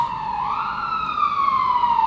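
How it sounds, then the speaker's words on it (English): A loud siren wails close by on a street in Tripoli, its tone sliding upward in a single long sweep. "Sirens"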